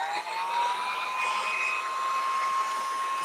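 Hair dryer blowing steadily at close range to dry red shimmer paint on paper, a continuous loud whooshing hum with a faintly rising whine, no talk.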